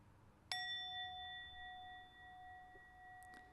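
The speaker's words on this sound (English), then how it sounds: "focusing on the quiet until you hear the bell ring again" A single bell struck once, its clear pure tone ringing out and slowly fading in a quiet room, with a faint tap near the end.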